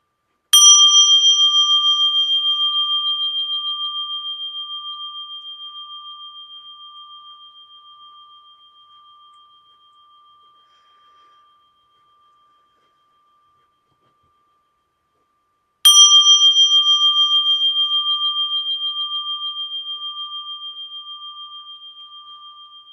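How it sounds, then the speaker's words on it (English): A mindfulness bell is struck twice, about sixteen seconds apart, each strike a clear sustained ring that decays slowly into silence, heard alone with no talking. "We're just breathing with the sound of the bell."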